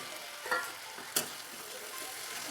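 Chopped tomato and green chili frying in a pan, a continuous close sizzle broken by two quick stirring scrapes, with no talking.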